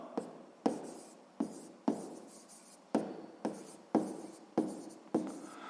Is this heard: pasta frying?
no